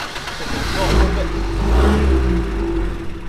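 A Triumph TR2 sports car engine runs close by at a rough idle with low rumbling and gentle revving swells, a person talking briefly over it.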